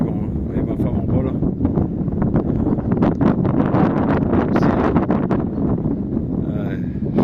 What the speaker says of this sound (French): Excusez-moi du vent.